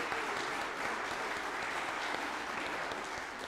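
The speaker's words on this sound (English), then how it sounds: "Can we give them a round of applause?" Steady, dense applause from a church congregation during a Sunday morning worship service, a continuous wash of many hands clapping at moderate distance with no pauses throughout.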